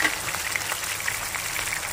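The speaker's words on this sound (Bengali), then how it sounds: "ইলিশ মাছগুলিকে হালকা হালকাভাবে এপিট ওপিট করে কোনো রকম ভেজে নিতে হবে" Hilsa fish fries lightly in a pan with a steady, even sizzle and soft scattered pops, close and fairly loud, with no talking.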